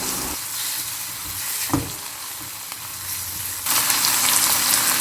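Peeled tomatoes go into a hot pan for a spring onion thoran, a steady sizzling hiss with a brief clatter of stirring midway, then the frying surges brighter and louder toward the end.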